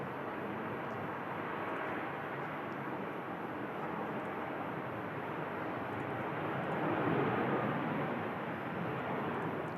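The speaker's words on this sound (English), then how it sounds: "We've got Sun Express on the departure." A Sun Express airliner departing Manchester Airport makes a steady, broad roar at a distance, swelling slightly near the end without fading away.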